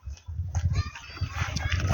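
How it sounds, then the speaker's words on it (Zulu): Chickens clucking close by in a rural homestead yard, a steady run of overlapping clucks and squawks across two seconds with a low rumble underneath and no talking. "Ngizwe inkukhu laphana"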